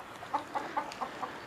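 Backyard chickens cluck in a short, regular series of about six soft calls, close and moderately quiet, with no talk over them.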